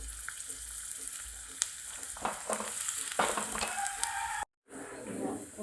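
Chopped shallots frying in two teaspoons of coconut oil, a steady close sizzle with scattered stirring scrapes and a faint rooster crowing in the background, no talk, then a brief dropout.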